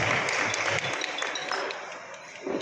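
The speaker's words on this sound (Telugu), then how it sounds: "చప్పట్లు కొట్టి వారిని సంతోషపరచున్నాం." An audience claps steadily at a party meeting honoring a newly elected constituency president, with dense, even applause heard from a moderate distance.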